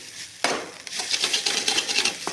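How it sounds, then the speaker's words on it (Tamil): Cooked rice being stirred into a mixture in a pan, a sudden metal clank of the spoon followed by quick scraping and soft clattering strokes close by, with no talking. "இதில் சோறு சாப்பாடு அள்ளி போட்டு நல்லா கிண்டி"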